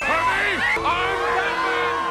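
A loud film crowd cheers and yells in Batman Forever, with overlapping whoops and rising and falling shouted voices forming a continuous, close din.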